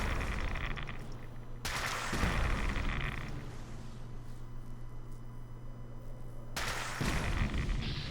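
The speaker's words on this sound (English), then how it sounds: "Just aim it at the ground and fire away." A weapon in the video game Fallout 76 fires at the ground with a Bloodied build. Two loud, heavy blasts ring out several seconds apart over a steady low game hum.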